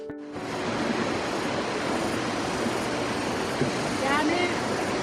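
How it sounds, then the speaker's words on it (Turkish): Small waterfalls beside the path at Goa Raja in Bali pour in a dense, steady wash of rushing water, loud and close, with faint voices and a few brief higher sounds over it. "Bir de yan taraftaki küçük şelaleler var"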